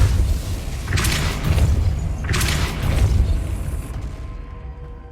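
A Depulso force spell cast twice in the Hogwarts Legacy video game, each cast a loud booming blast with a bright crackling burst, spaced about a second apart over a low rumbling ambience that fades out.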